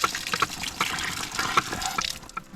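Water runs from a garden water line at a big old gate valve, gushing and splashing with irregular louder spurts over a constant flow.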